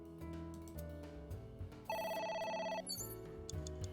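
In the video game AI: The Somnium Files, a telephone rings with one loud, clear electronic burst over a bed of game music, with no talking.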